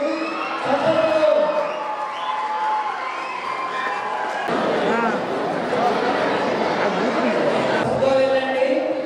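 Large crowd at an honouring ceremony in Mancherial cheers and applauds, a loud steady roar of clapping, shouts and whoops sustained throughout at close range.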